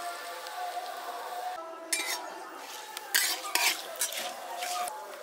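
A spoon stirs fenugreek seeds and bay leaves in hot oil in a pan, with a steady soft sizzle and scraping taps of utensil on metal, close and moderately loud, no talk.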